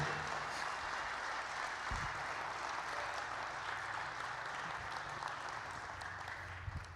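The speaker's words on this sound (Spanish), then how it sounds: "dale un fuerte aplauso a Jesús" Church audience clapping for Jesus during a sermon, a faint, distant wash of sustained applause with a low hum underneath and no clear voices.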